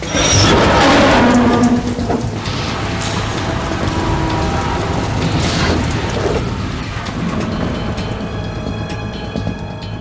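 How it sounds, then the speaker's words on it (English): Steady rain in a Metal Gear Solid 2 scene, a dense hiss of downpour that stays loud throughout, with heavier low rumbles like thunder or engine noise swelling and easing beneath it; no one speaks. "It stopped raining."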